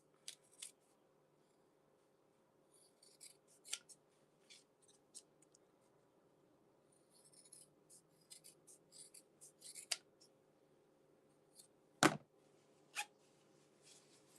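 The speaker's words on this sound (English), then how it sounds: "Let me get a different pair of scissors." Scissors snipping zipper tape during sewing, a few quiet separate cuts spread through a near-silent stretch, with one sharper, louder snip near the end.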